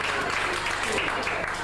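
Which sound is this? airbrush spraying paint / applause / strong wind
applause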